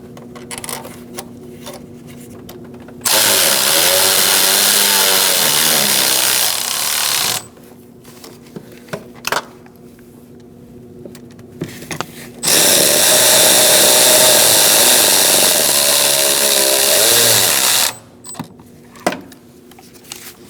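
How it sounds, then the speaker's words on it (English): A power tool drives bolts in during an ignition coil job on a 2004-2012 Chevrolet Colorado 3.7L, with two loud, close, sustained whirring runs of several seconds each, separated by quieter clicks and handling noises. "Now we're going to put our bolts in."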